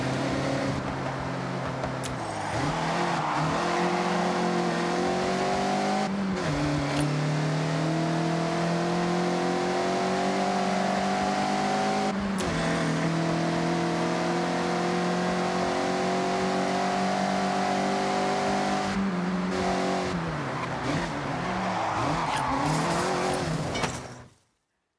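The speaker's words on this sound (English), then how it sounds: "Don't worry about traction. The MX-5 likes to be sideways." A Mazda MX-5 drifts sideways in Forza Horizon 6, its engine droning loud and steady as the pitch rises and falls through each slide and shift, with tire noise under it, continuous for about 24 seconds before cutting off.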